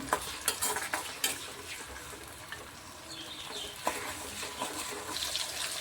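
Tomato, onion and garlic fry in oil, making a low continuous sizzle with intermittent utensil clinks and stirring scrapes, fairly quiet and without speech.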